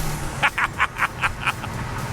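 A Mazda FD RX-7 rotary engine revs on a dyno in a quick series of about six sharp, evenly spaced bursts, then fades into a steady low drone.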